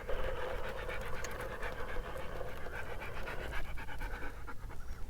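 A dog pants rapidly and steadily at close range, with quick rhythmic breaths continuing throughout, over a busy outdoor background during a rock-crawling trail outing on a cliff edge.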